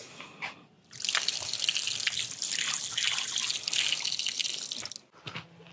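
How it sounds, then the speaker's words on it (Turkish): Mountain spring water gushes steadily from a tap in a village, loud and close for about four seconds before stopping abruptly, followed by a few drips. "Buradan su alıyorum. Dağ suyu olduğu söyleniyor."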